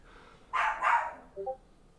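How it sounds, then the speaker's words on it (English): A dog barking in the background indoors, two short barks in quick succession followed by a softer whine, faint and somewhat distant with no voices. "I don't know if y'all hear her barking in the back."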